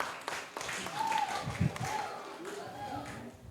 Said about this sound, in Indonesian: Beri tepuk tangan dulu buat Bara